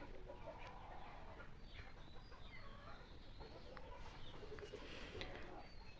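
Native chickens at feeding time cluck faintly and sporadically against a soft, steady background, the calls scattered and distant with no clear voices.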